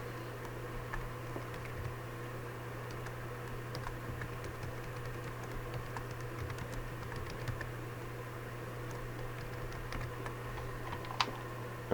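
Keys on a computer keyboard are tapped in scattered soft clicks over a steady low hum while a video editing program is being set up, faint and close, with no one speaking.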